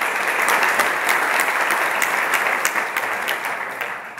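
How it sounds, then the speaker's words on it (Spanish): Audience applause at a 2016 SocializaDay conference inauguration, dense and steady clapping from a sizeable crowd, sustained throughout and tapering slightly at the end. "Un aplauso para él."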